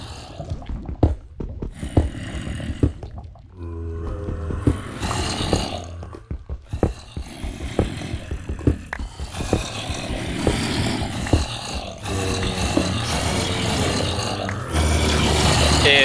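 Low, guttural zombie groans and snarls from a Minecraft zombie spawner overlap in a noisy game soundscape, rising and falling repeatedly, fairly loud and close with no talking.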